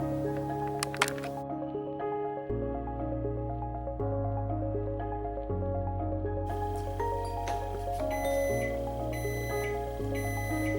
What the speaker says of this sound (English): Listen to that. Timer's ready.